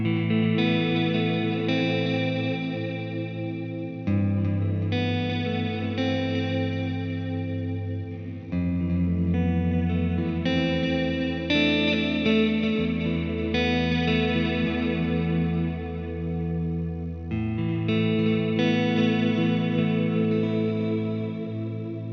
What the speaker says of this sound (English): That swirling effect was outstanding.